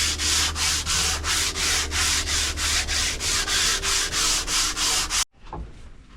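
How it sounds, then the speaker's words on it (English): Sandpaper is rubbed along the grain of wood on a fighting chair in even, rhythmic back-and-forth strokes, loud and close, about two per second, before stopping with a brief scrape. "Now we are using 150 grit sandpaper after the 80."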